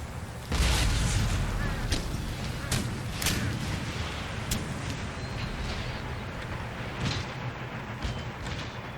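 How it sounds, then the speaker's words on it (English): Cannon artillery fire in the PC strategy game Empire: Total War, with several loud booming shots and sharp cracks spread across a sustained battle din of rumbling low noise, heavy at the start and continuing throughout. "Let's load those cannons."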